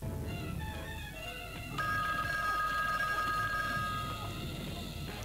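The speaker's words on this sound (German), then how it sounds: "das Telefon klingelt" Telephone ringing in a Halloween horror video game, a faint electronic ring with steady tonal pulses that turn stronger and held partway through, over low background game ambience.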